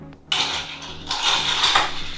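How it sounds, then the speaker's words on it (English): A spoon stirring a blackberry bourbon cocktail in a glass, giving bright clinking and scraping against the glass, close and fairly loud, continuing steadily for a couple of seconds with no talking. "give that just a little stir"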